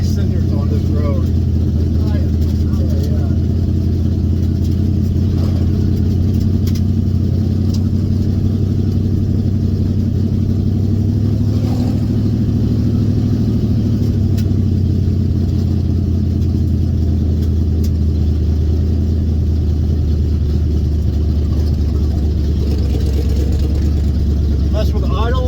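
A Chevrolet Vega's engine drones steadily and loudly while the car drives along a road, a continuous low hum with slight shifts in pitch throughout.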